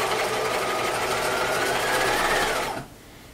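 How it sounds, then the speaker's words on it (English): Sewing machine running steadily as it back stitches along a skirt hem, a continuous close, even whir that stops abruptly near the end. "Okay, so we're gonna sew along the hem."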